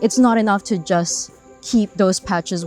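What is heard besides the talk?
None of the usual background noises is heard.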